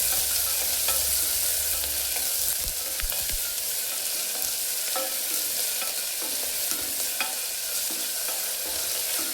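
Chopped onions with cumin sauté in a hot pan for bottle gourd kurma, a steady loud sizzle with scraping stirs of a spoon against the pan, no voices.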